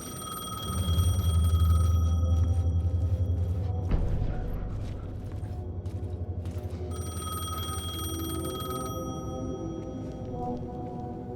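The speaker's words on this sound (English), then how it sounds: "The payphone was ringing." An old payphone rings in the dark game world of Alan Wake 2, its bell trilling in a repeated, steady pattern over a low rumbling ambience, moderately loud, with no voices.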